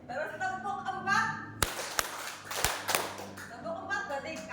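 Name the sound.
group hand clapping pattern in a class exercise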